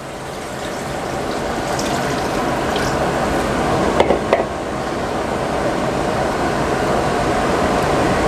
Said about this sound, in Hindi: तकरीबन इसमें मैं 2 किलो पानी डालूँगा।